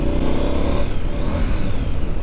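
A 2021 Triumph Street Scrambler Sandstorm motorcycle pulls away, its engine a loud, close, steady mid-pitched drone rising slightly as it accelerates, heard alone without talk.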